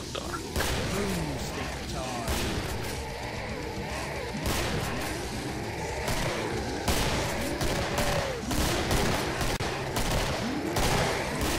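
Guns, including a pistol, crack repeatedly during co-op play of the game Killing Floor, in steady rapid bursts and sharp single shots over busy game noise. Voices talk now and then.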